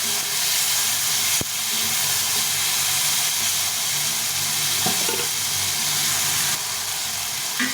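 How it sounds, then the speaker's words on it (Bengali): Steady, loud sizzling and hissing of tomatoes frying in a pan, continuous throughout with a brief clink of a utensil partway. "আরেকটু টমেটোগুলো ভেজে নেব একদম নরম করে ভেজে নিতে হবে"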